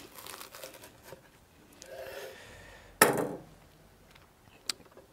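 A knife or cutter slicing through a freshly baked Turkish pizza (lahmacun) with a sharp crunchy crackle at about three seconds, followed by a fading crisp rustle and a small click near the end.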